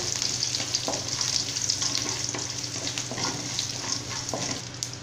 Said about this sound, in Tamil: இது வந்து ஆயில்ல நான் வதக்கிக்கறேன்